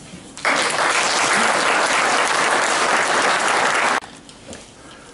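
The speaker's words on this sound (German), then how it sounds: "begrüßt mit einem großen Applaus den Bürgermeister der Stadt Pocking" Loud, sustained applause from an audience in a town hall welcomes the mayor of Pocking at an honors evening for a sports club's anniversary, beginning abruptly and cutting off sharply after several seconds.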